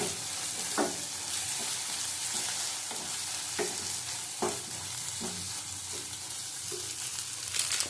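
Egg curry masala with coriander and cumin powder sizzles in a pan as it is stir-fried, with a steady close hiss broken by regular scraping strokes of a spatula roughly every second.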